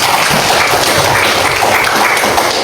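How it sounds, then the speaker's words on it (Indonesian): Classroom applause from a group of students, a dense, steady wash of many hands clapping together at full volume, sustained without break and no voices standing out. "tepuk tangan sekali lagi"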